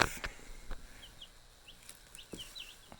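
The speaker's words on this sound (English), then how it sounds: "7-day-old chicks. The breed is a silver-laced Wyandotte" Seven-day-old silver-laced Wyandotte chicks in a brooder give a few thin, high peeps and chirps, scattered and fairly faint, with some soft rustling and light knocks in between.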